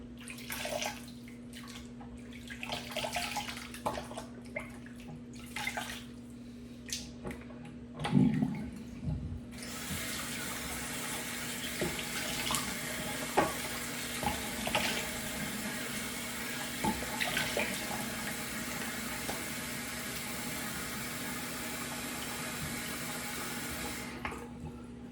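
Soft room noise with small clinks gives way to a tap turned on, water running steadily into a sink for rinsing off after a shave, with splashes and a constant low hum underneath.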